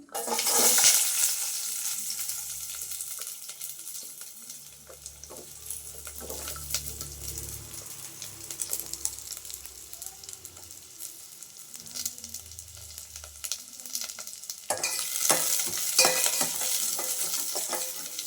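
Cumin seeds and onion frying in hot oil for palak paneer gravy, a continuous crackling sizzle broken by spoon-stirring and scraping in the pan, with a brief burst of louder hissing near the end.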